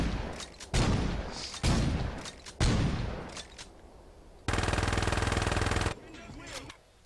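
Gunfire in the video game Saints Row 2: several loud, sharp bursts of shots spaced about a second apart, then a sustained rapid stream of automatic fire, with quieter game sounds between and after.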